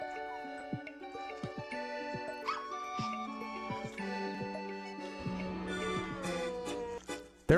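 Cartoon puppies in the Nintendogs video game yip and bark in short repeated bursts over bright, tinkling game music, fairly close and clear.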